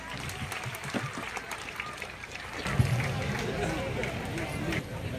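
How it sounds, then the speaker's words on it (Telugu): An audience at a school Teachers' Day event breaks into clapping, a dense burst of applause rising midway and continuing, with crowd murmur and a voice speaking over it. "క్లాప్స్."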